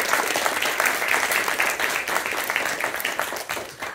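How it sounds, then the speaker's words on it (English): A crowd at a student project presentation applauds, a full, continuous round of clapping that holds steady for several seconds. "let's give up one more round of applause for Austin"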